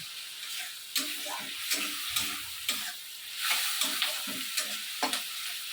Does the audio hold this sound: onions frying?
yes